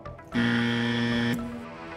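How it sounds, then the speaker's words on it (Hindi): Quiz show buzzer on a children's general knowledge TV show, a single loud, steady electronic tone lasting about a second before cutting off. "ऑल सेंस ने पहले बजर दबाया है"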